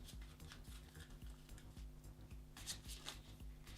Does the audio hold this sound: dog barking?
no